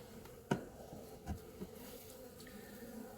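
Honeybees at a hive during a first inspection without smoke, their soft, steady buzzing faint throughout, broken by a few dull knocks from frame handling.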